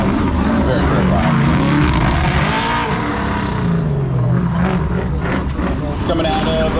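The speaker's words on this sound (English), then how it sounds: "when Larry Wu's car takes off, it's very loud" Larry Wu's race car launching at the Goodguys Nationals in Columbus, Ohio, a loud, sustained engine roar that fills the whole stretch, rising and shifting in pitch as the car pulls away.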